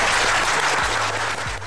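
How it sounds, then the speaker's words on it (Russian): Applause-like clapping of many hands, dense and steady for under two seconds, with a faint high tone running through it and no voices. "Карл Маркс сидит непосредственно и хлопает в ладоши"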